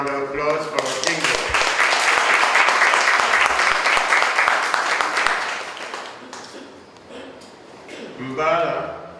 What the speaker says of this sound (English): Another round of applause for Dingo.